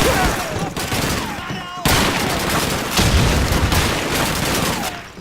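Bolt-action rifle fire in Call of Duty 2 amid a noisy World War II battle. A couple of loud, sharp reports stand out against dense, constant background gunfire and rumbling explosions.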